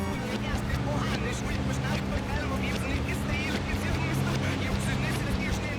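Racing cars in Gran Turismo 4 on the PS2 hold a steady, high engine whine throughout, with tones rising and shifting as gears change. The sound is continuous and fairly loud.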